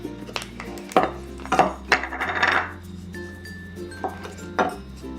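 A utensil clinks and scrapes against a bowl while sour cream is mixed with salt and pepper, a few sharp taps followed by a short swishing stir, close by and without talking.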